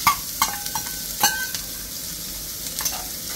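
Onion sizzling in a pan for paneer sandwiches: a steady frying hiss broken by several sharp clinks and scrapes of a utensil stirring against the metal.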